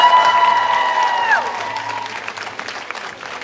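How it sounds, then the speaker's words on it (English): A crowd applauds and cheers at a dance competition for under-5 and under-6 age groups. Dense, loud clapping rises at the start with a few high shouts, then gradually thins and fades over several seconds. "please give them a big cheer."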